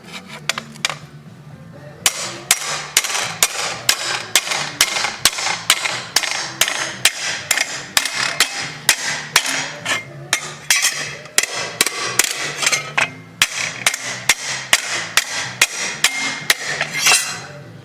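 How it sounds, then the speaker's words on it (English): Repeated hammer blows on metal, bending over a freshly cut piece while making a tractor tire chain hoist with no heat; loud, sharp strikes in quick, steady runs after a brief quiet start, with no talk. "let's bend it over. Pick my favorite hammer."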